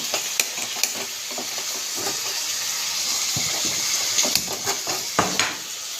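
Prawns fry in oil in a home kitchen, giving a steady broadband sizzle with scattered sharp clicks and clatters of utensils throughout.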